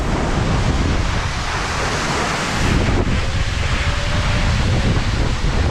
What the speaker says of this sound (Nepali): यो पछाडिको झरनाले यहाँसम्म मजाले हावा आएछ।